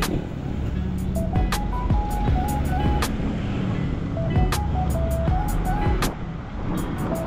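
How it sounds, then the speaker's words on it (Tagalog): Road traffic on Commonwealth Avenue hums and rumbles steadily, with repeated electronic beeping tones and clicks from a vehicle sounding over the dense, continuous engine noise. "Maka-traffic sa Commonwealth ngayong araw na to."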